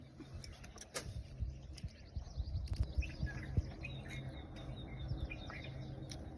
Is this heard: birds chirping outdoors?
yes